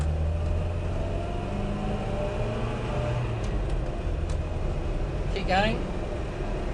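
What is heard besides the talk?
1970 Hillman Hunter engine revving while accelerating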